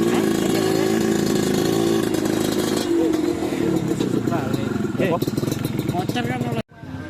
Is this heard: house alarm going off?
no